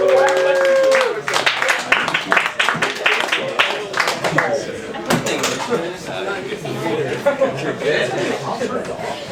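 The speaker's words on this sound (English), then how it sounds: "Big round of applause for Calto" Scattered clapping from an open mic audience for the performer Calto breaks out through the first few seconds, mixed with loud, close chatter and voices that keep going after the claps thin out.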